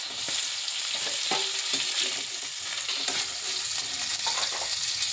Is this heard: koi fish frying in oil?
yes